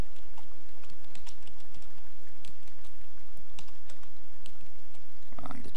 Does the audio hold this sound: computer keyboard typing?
yes